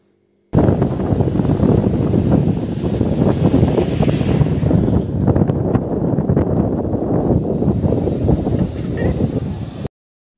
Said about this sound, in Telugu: ఇక్కడ కూడా అలలు చాలా స్పీడ్గా వస్తున్నాయి